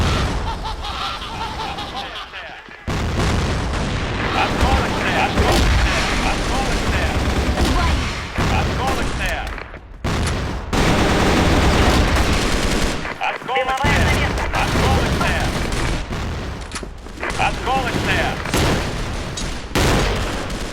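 Rapid gunfire and booming grenade blasts from the shooter game CrossFire, with dense, loud, near-continuous bursts over about twenty seconds, broken by a few brief gaps, with voices mixed in.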